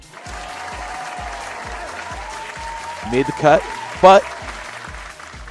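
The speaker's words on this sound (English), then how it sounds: "So we'll give an applause on that one." Applause from a small group in a drone hangar, steady and moderately loud throughout, with people talking over it and a few brief whistle-like tones near the end.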